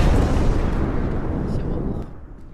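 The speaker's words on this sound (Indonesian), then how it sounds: "Ini monster meledak." A monster explodes in the horror video game Content Warning, a loud, booming blast that starts strong and rumbles on before fading away near the end.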